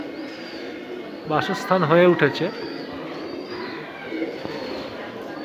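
Soft pigeon coos murmur in the background at the Annapurna temple in Barrackpore while a person talks nearby, the cooing faint and intermittent.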